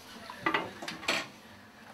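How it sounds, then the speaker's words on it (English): Dishes clatter faintly in a home kitchen, a few quick clinks of plates and cutlery spread over two seconds with no talk. "What, me doing dishes?"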